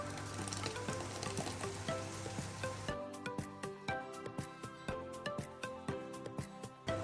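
Tomatoes sizzle in a hot karahi with ghee and spices, a loud steady frying hiss that quiets partway through into a crackling with repeated sharp pops and spatters at close range.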